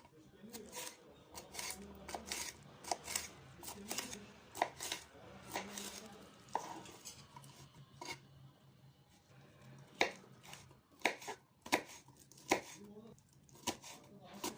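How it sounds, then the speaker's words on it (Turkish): A knife chops sweet red kapya peppers on a board in quick, steady strokes with brief pauses, close and crisp, while a voice talks quietly. "Ben doğramaya kapya biberlerden başladım."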